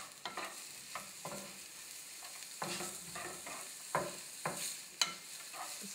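Food for Vietnamese spicy beef noodle soup is stir-fried in a pan over medium heat, with soft sizzling under repeated rhythmic scraping stirs about once a second.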